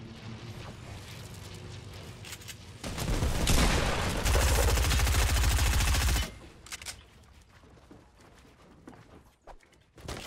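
Shotgun fire in a Fortnite match: a dense, loud burst of blasts in a sustained barrage over several seconds, followed by scattered quieter shots and game noise.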